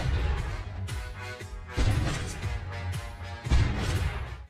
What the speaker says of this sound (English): The sound of gunfire immediately alarmed the sheriff